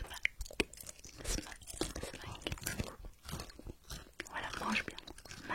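Close, wet chewing and crunchy biting of food during a feeding roleplay, with irregular mouth sounds running under soft whispered talk throughout.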